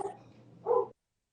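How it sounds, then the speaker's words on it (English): A dog barks once in the background, a short, faint, distant yelp after a low murmur, then silence. "Yeah, you might hear a dog in the background"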